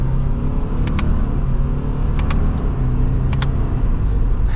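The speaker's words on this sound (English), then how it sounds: "we are setting off now in the Impreza" A 2024 Subaru Impreza RS with a CVT pulls away, its engine a loud steady low drone heard from inside the cabin, with a few faint clicks scattered over the hum.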